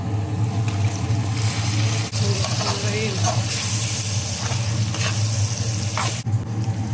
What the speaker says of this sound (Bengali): এখন এই যে কষানোটা শেষ হয়ে গেছে মশলা দেখুন তেল কেমন আছে